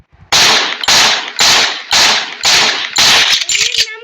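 Desert Eagle pistol shots from the video game Free Fire Max, six sharp, loud cracks fired at a steady rhythm about half a second apart, with a short electronic tone trailing the last shot.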